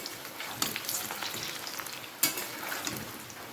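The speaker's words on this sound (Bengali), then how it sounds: "বাকি এইগুলো এবার একসঙ্গে সব ভাজা করব।" Chicken pakoras frying in a pan of hot oil give a steady, close sizzle, broken by a couple of sharper spattering pops.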